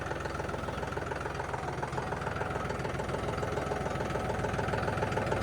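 A John Deere 5210 V2 tractor engine runs steadily, close and loud, with a constant throbbing diesel note and no talking.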